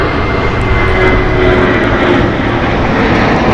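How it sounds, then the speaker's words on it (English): A 26-year-old United Airlines Airbus A320 jet departing LAX, its engines producing a loud, steady broadband roar that holds nearly constant throughout, with no voices. "Departing here is United Airlines Flight 319 going to Puerto Vallarta. It's an Airbus A320, 26 years old."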